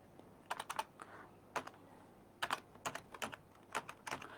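Quiet computer keyboard typing, with the Enter key pressed to start a new line; clusters of light, crisp keystrokes are separated by brief pauses and no voice is heard.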